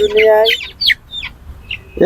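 Chickens at a poultry market give a few short clucks and squawks close by, with a brief louder burst at the start and scattered calls after.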